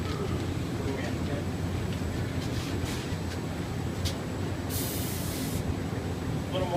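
Wagner TwinControl paint spray gun spraying with atomizing air, a steady continuous hiss running throughout with a brighter burst of spray midway, under a constant background rumble.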